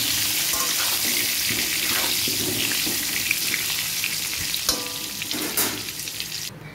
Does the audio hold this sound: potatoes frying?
yes